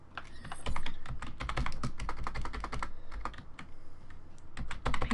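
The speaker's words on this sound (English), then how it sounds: "what are you doing on my keyboard?" Rapid, steady typing on a computer keyboard during a Black Ops gaming session, with dense, close clicks and clacks running continuously for several seconds and no voices.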